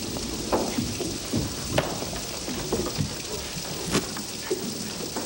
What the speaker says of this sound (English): The rain's come through again.